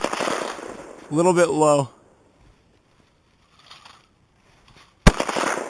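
A single sharp, loud AR-15 rifle shot cracks out at an outdoor range in snow, coming after someone speaks and a brief whistle-like tone, with talk just before it and a short stretch of quiet in between.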